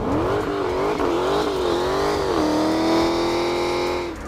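A Dodge Challenger SRT Hellcat engine revs hard and steadily close by, its pitch wavering then holding high as the wheels spin, a continuous loud roar with no talking.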